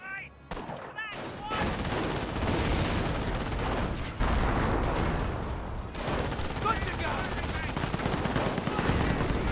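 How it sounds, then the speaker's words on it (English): Mortar impacts and bursts of machine gun fire in Company of Heroes, a World War II strategy game, keep up a dense, continuous clatter of shots and thuds; no talk is heard. "Good mortar hits there."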